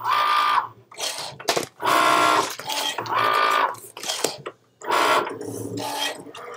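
A Cricut cutting machine slicing a sheet, its motor whirring in repeated bursts with steady high-pitched tones, pausing briefly between passes as the carriage shifts, close and loud.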